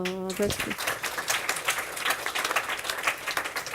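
A conference audience at a French annual medical-association day applauds after personal testimonies: a brief tonal sound, then dense, steady clapping from many hands that fills the rest of the moment at moderate loudness.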